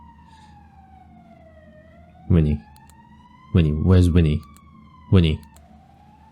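An ambulance siren in the horror video game Cold Front, a steady wailing tone sweeping slowly down and up across the whole stretch, with someone speaking in short bursts over it.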